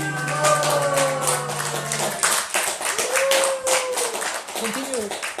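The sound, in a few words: students clapping hands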